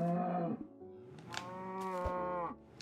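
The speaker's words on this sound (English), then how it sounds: "Oh, I tried to catch the cow." Cow mooing in the video game Minecraft, a long drawn-out harmonic moo followed by a second moo, loud and close with no talk over it.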